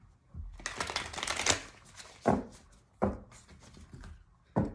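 Tarot cards are shuffled in a quick riffling burst, followed by a few separate crisp card pulls and slaps, close and fairly soft.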